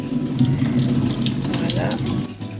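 Water runs steadily from a tap as a houseplant is rinsed at an indoor sink, a close, continuous splashing flow that lasts throughout.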